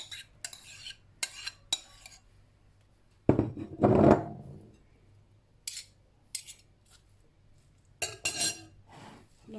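Metal utensils clink and scrape in a bowl as chopped onion and parsley are added to a samosa filling of egg and potato with crème fraîche, in a few short separate bursts with a louder stirring patch in the middle.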